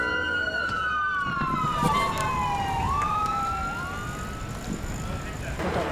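Wailing sirens from fire brigade and police vehicles sweep up and down loudly over constant street traffic noise, the tones gliding and overlapping as the vehicles pass nearby.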